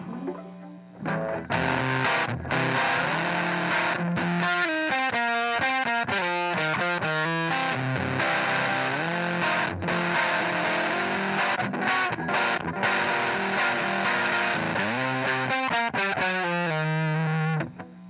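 Electric guitar played through an Aclam The Mocker fuzz pedal, loud and continuous with a gritty, distorted tone, picking out busy riffs and sustained chords with brief choppy stops, and no talking.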